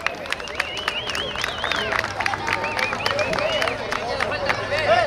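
Audience at a jaripeo rodeo on a ranch claps in a dense, steady patter of applause mixed with shouts and whistles, loud and close, with voices calling out over it.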